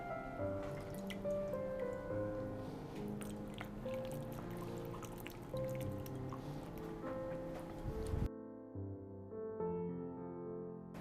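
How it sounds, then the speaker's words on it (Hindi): Water sloshing and dripping as cut potatoes for French fries are rinsed by hand in cold water, with irregular splashes and small knocks, then the sound cuts off abruptly near the end. "कटे हुए आलूओं को ठंडे पानी में धो के लेना"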